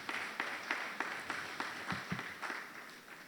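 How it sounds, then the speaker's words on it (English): Scattered audience applause at a courthouse summit on alternative dispute resolution, individual claps clearly separate and thinning out, fairly quiet and sparse in a large room. "A round of applause."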